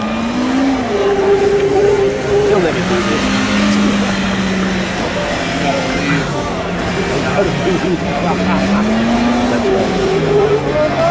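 A brand-new Polaris RZR side-by-side engine revving and surging up and down, loud and continuous, with people shouting and talking over it.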